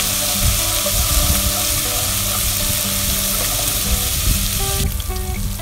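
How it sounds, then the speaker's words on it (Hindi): A loud, steady sizzle of paste sautéing in a hot pan for chicken chow mein, close up and continuous, with faint scraping of stirring. "आपने इसको सौते करना है और हल्का सा ब्राउन करना है इसको"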